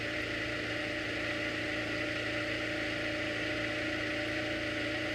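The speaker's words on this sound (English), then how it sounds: "They're basically coasting at an idle." An IndyCar engine idling while the car coasts under yellow at the Honda Indy Grand Prix of Alabama, a steady low droning hum, faint and distant with no talk.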